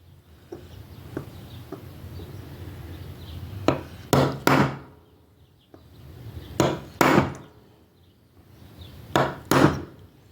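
A hammer drives a chisel into a 4L60E transmission accumulator part, sharp metallic strikes landing in three clusters of two or three blows each, with lighter taps between them.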